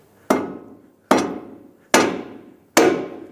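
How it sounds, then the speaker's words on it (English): A rubber mallet strikes a ball joint on a 2012–2022 Ford Focus from below, four evenly spaced, sharp metallic-tinged thuds close by, each ringing briefly before the next. "Grab a rubber mallet, hit it from the bottom"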